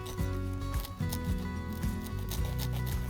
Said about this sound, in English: So let me try to get my hoary knife and just kind of cut up some of the bottom.